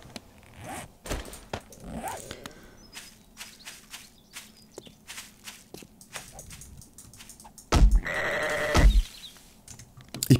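Sheep bleating in the survival video game 7 Days to Die, a loud bleat near the end after quieter game noises, footsteps and scattered clicks.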